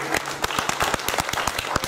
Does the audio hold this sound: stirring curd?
no